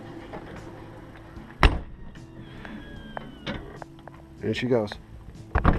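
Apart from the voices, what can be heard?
automatic entry step of THOR motor coach retracting with door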